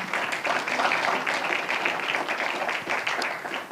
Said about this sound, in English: let's a round of applause for Robin Schlager